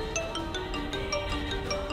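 A phone ringtone plays on a wedding night, a steady tonal melody with repeating bright chimes, fairly loud and continuous with no talking over it.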